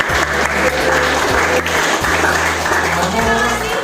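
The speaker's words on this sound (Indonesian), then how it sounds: "tepuk tangan dulu untuk kalian" A classroom group claps together in a brisk, dense burst of applause lasting a few seconds, close and loud, with a voice faintly audible beneath it.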